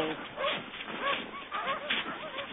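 Sled dogs readied for a race whine, yip and whimper in short overlapping bursts close by, with faint voices mixed in.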